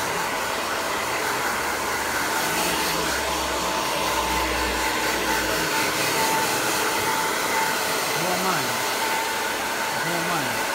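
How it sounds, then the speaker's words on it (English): A hair dryer blows with a loud, steady whooshing roar that runs unbroken throughout at close range, while a voice speaks faintly beneath it. "There's nothing like a good dryer."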